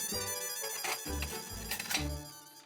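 A telephone rings on an outgoing call, repeating in short regular bursts of an electronic ringtone that fill the clip alone before stopping abruptly.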